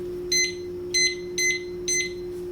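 A kitchen timer beeps in four short, evenly spaced bursts of high electronic tones, fairly close, over a low steady hum.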